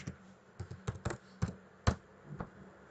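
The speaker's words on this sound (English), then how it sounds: "Go to cmd and type java" Keys on a computer keyboard are tapped in short irregular bursts, about a dozen distinct close but soft keystrokes as a command is typed, with no speech.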